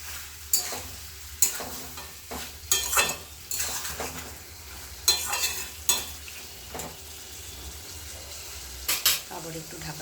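Fried bori lentil dumplings stirred into a pan of cooking mixed vegetables: bursts of scraping and clanking from the spoon against the pan, separated by pauses, over a soft background sizzle.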